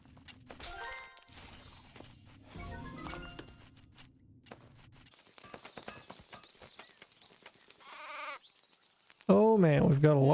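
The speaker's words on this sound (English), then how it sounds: "Oh man, we've got a lot of sheep now." Sheep bleat in a video game amid scattered clattering game sounds, with a loud, wavering bleat close up at the end; a voice talks intermittently underneath.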